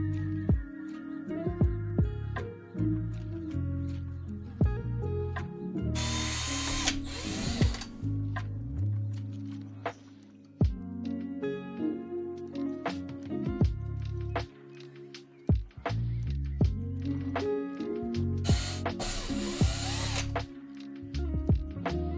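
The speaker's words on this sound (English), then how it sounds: "now I'm gonna drill the one farthest to the left, then skip 2, then drill 2, skip 1, and then drill the last one" A power drill bores pilot holes for cable glands in a pixel controller enclosure, with repeated whining motor runs that stop and start, separated by sharp clicks and bursts of hissy cutting noise, close and steady.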